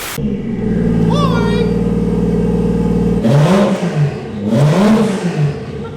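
A Toyota 1J straight-six engine revving hard in a Honda DC5 Integra Type R project, a steady high drone held at the limiter, loud and close, with voices talking over it.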